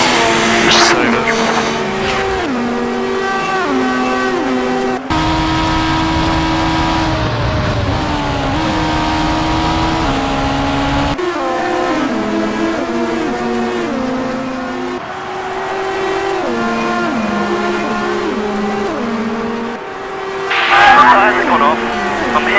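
An F1 race car in a racing video game, engine whining through repeated gear changes and revs, with tyre squeal and a scrub-off into gravel. The sound is loud and continuous and carries under commentary.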